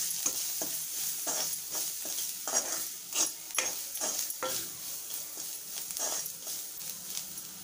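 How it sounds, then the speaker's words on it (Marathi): Turmeric and masala being stirred and fried in a pan for palak dal, with a steady sizzle and repeated scraping strokes of a spoon against the pan, close and alone. "छान असं परतवून घेऊया।"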